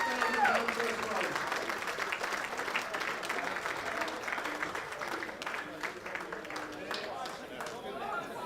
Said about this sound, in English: can I have a round of applause for the APAT show